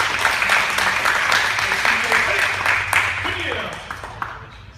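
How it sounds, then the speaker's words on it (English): Moderate applause from a group at a martial arts belt promotion for a student earning a yellow belt, with voices talking over the clapping as it gradually fades. "Let's give him a nice round of applause."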